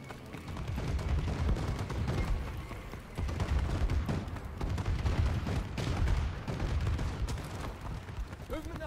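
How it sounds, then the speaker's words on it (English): Bombing run in Call of Duty: Advanced Warfare: a dense, continuous barrage of gunfire and heavy explosions rumbles loudly for the whole stretch, with sharp blasts landing over a deep, sustained roar. "Bombing run clearing the way."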